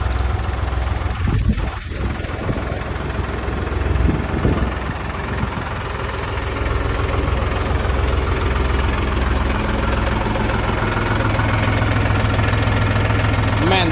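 A Mahindra 265 tractor engine idles nearby with a steady, loud low rumble and knocking throb, with some clunks early on and voices talking over it.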